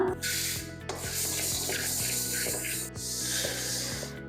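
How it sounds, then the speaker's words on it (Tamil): Mustard seeds, pepper and fenugreek are dry-roasted in a pan for sambar powder, with a continuous close scraping and rustling as a spoon stirs the seeds across the metal. "கடுகு வறுத்துக்கலாம் மிளகு சேர்த்துக்கலாம் வெந்தயம் சேர்த்துக்கலாம்"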